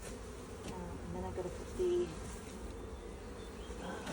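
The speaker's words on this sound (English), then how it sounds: "You actually have a lot of bees on the lid" A low, steady insect buzz of many honey bees hovering close around a hive lid, continuing under a man's quiet speech.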